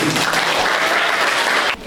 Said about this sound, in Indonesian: Ayo tepuk tangan untuk bapak dan ibu guru